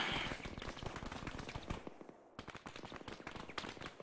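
Rapid bursts of gunfire from a video game, dense and continuous, with automatic fire rattling almost without pause for several seconds and a brief lull midway.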